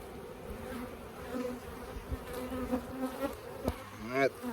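Honeybees crowd an open Langstroth hive during a spring inspection, droning in a dense, continuous buzz close by, with brief swells of sharper buzzing and a louder surge near the end.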